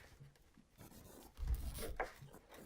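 A zip tie being pulled tight around the skirt band of a bass jig: a quiet, brief scratchy ratcheting sound, heard close up, lasting about half a second.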